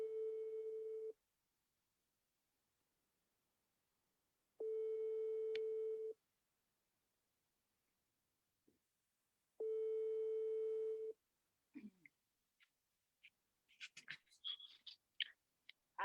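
Telephone ringback tone heard while a call is being placed: three long, steady tones separated by silent gaps, followed by faint clicks and brief noises as the line connects.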